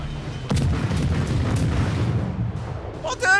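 A heavy explosion booms out amid gunfire in the World of Warships naval game, with a loud rumbling blast that fades over a few seconds as a brief voice comes in at the end.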